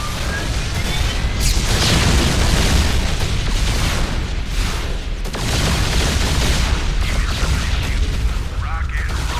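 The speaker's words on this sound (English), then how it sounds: "A popular choice is the Yamato cannon, which does significant damage to single enemy targets." The Yamato cannon fires in the video game StarCraft II, with heavy booming blasts and rumbling explosions in a dense, loud battle mix, two sharp onsets standing out among continuous roaring impacts.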